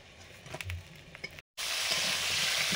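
Pointed gourd pieces rubbed with salt and turmeric fry in hot oil, a quiet sizzle with a few light clicks that swells into a louder, steady sizzle after a brief cut.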